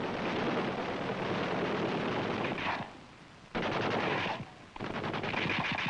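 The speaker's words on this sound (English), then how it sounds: "The UH-1A's two fixed-mount 30 caliber machine guns are mounted forward on the skids, one on each side. They are fired through an electro-solenoid by the pilot." Two fixed 30 caliber machine guns mounted on the skids of a UH-1A helicopter fire in Vietnam: loud, sustained rapid bursts up close, with a short pause between volleys.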